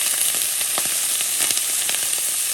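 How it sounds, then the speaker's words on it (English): Butter, onions and garlic sizzle steadily in a hot pan, a dense continuous crackle with scattered sharper pops throughout, close and fairly loud with no voices. "Putting in that butter, putting in these onions. Here goes our garlic."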